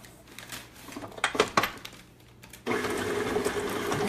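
An electric hand mixer kicks on partway through to blend butter for chocolate chip cookie dough, a steady close whirring buzz that follows some clinks and knocks of bowl and utensils.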